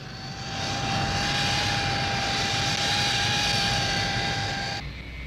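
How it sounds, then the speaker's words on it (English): A Hawker Siddeley P1127 jet fighter, built for the Royal Air Force and fitted with a Pegasus engine, roars past in level flight with a loud, steady broadband jet noise and a high whine, then drops off abruptly near the end. "Another high-speed fighter in quantity production for the Royal Air Force, Hawker Siddeley's P1127."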